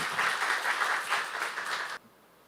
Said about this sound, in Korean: 박수 한번 하세요.